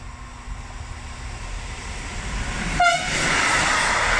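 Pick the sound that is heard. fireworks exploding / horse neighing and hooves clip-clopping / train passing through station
train passing through station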